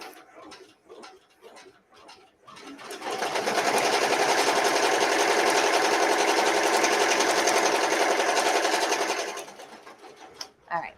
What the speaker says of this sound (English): All right, so that will start stitching.